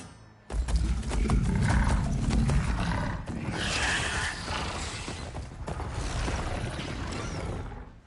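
Machine creatures from the video game Horizon Forbidden West give loud creaking, growling mechanical roars that burst in abruptly and continue in heavy, rumbling waves, with no talk.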